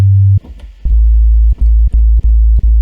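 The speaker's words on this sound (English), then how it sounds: "If I play notes, we just get a sine wave." Plain sine-wave tones from an empty software instrument in a music production program, a few separate notes played one after another, loud and clean with no talking.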